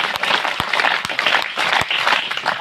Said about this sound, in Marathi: त्यानंतर जोरदार टाळ्या